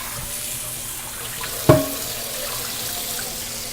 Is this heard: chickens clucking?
no